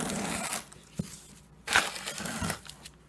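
Floor tile mortar is spread across a surface with a trowel, giving a few soft, faint scraping and squelching strokes at close range.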